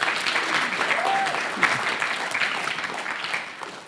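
Conference audience applauding at a green growth gathering, a steady wash of clapping hands lasting several seconds and slowly thinning toward the end, with no talk over it.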